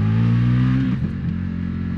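Engine of an Indian FTR 1200 motorcycle revving loudly up close during a night ride through Belgrade, a steady rising drone that dips briefly mid-way then settles back to a strong running note.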